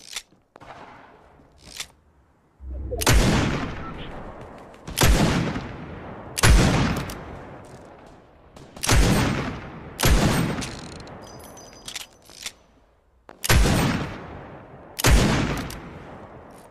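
Loud, booming single shots from a scoped revolver in a video game, about eight heavy reports at a slow, fairly regular pace, each ringing out with a decaying echo before the next.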